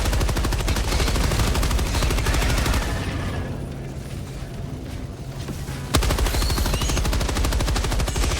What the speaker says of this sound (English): Oh, there's my turret. Now it's shooting.